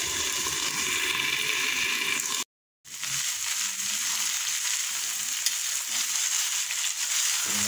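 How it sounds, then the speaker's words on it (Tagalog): Sweet potato tops fry in a pan, a steady close sizzle and crackle with one brief gap, no talking. "Pritong talbos ng kamote."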